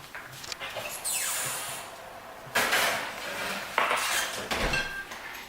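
Homemade chicken pot pies in baking dishes go into a kitchen oven, with a few clattering, scraping clinks of dishes against the racks and an oven door, fairly close and with no talking.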